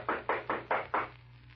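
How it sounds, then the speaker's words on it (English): Five firm knocks on a wooden door in a radio drama, evenly spaced and fairly close, each a hollow thud followed by quiet. "I'm going to knock on the door."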